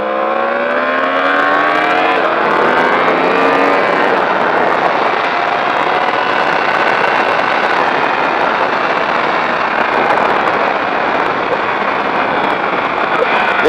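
A race car engine accelerating hard on the track at Magny-Cours, a loud continuous roar with rising harmonic tones as the revs climb, heard close and steady throughout.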